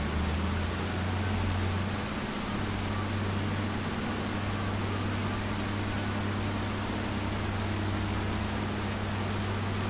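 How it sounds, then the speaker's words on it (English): Steady, dense rain hiss falls across a farm in Farming Simulator 25, with a low droning hum beneath it, constant and loud throughout with no voices. "How long is it gonna rain now? I can't harvest in the rain."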